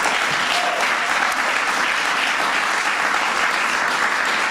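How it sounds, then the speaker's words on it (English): Dense applause from a large crowd at a White House student film festival fills the whole stretch, steady and loud without pause. "Give them a big round of applause."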